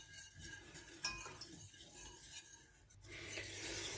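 A spoon stirs béchamel sauce in a pan, made for chicken-stuffed mushrooms. It gives quiet, steady scraping and rubbing with a few light clinks of utensil against metal, close and faint, and no one speaks.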